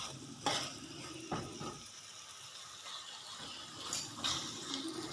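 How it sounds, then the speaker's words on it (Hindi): Black chickpeas roast with spices in a pot for a curry, giving a soft steady sizzle broken by a few scraping stirs of a spoon, close and fairly quiet with no talking. "चने मसाले के साथ 3 से 4 मिनट भून रही हैं।"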